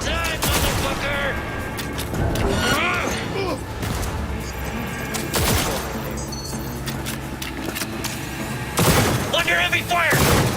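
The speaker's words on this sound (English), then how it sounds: "Under heavy fire!" Heavy gunfire from a firefight in the video game Cyberpunk 2077: dense, continuous bursts of shots and blasts with loud impacts, the barrage swelling again near the end, with a voice calling out under it.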